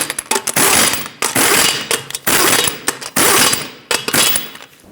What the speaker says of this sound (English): Also in a cross pattern, torque them to 83 foot-pounds.